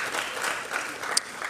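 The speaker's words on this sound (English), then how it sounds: "Please, a round of applause." Audience applause at a Ghanaian ceremony, a brief soft burst of clapping heard from a distance, fairly faint and steady with no talk over it.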